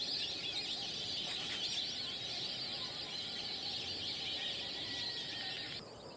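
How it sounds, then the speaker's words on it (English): A flock of white-faced whistling ducks on a lagoon in the Gambia gives a dense, continuous chorus of high whistling calls, fairly faint and distant, that runs on steadily and then drops away near the end. "increasing numbers of white-faced whistling ducks appeared"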